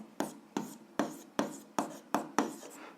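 A pen scratches across paper during a seventh-grade algebra exercise, about seven short, evenly spaced strokes close up, with no talking.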